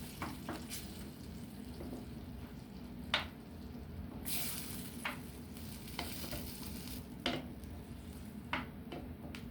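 Pink beans being stirred into a pot for New Orleans red beans and rice, a low continuous simmering sizzle with scattered light scrapes and taps of a spoon, no voices.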